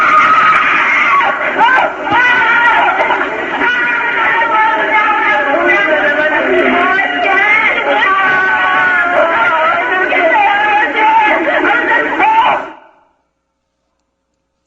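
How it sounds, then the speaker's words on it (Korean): Recorded screaming and wailing from many voices, sustained and loud for about twelve seconds, a dense chorus of crying and yelling that cuts off abruptly into silence. "그 몇 시간 동안 울고 또 울면서 질렀던 그 비명의 소리인데요"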